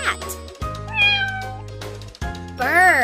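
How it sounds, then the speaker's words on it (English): Cartoon cat meowing in a children's animal puzzle game for Android, several clear meows over a steady game music bed, loud and close, with a final drawn-out meow at the end. "Cat."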